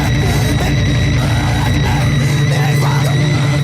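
An album's opening track, a dense, loud wall of distorted screams, growls and haunting noise, harsh and unbroken throughout.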